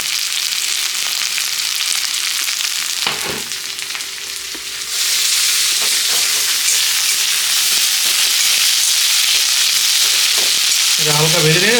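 Carrots and onions sizzle and fry loudly in a pan for chow mein, a steady broadband hiss with occasional stirring scrapes, louder after a brief dip midway.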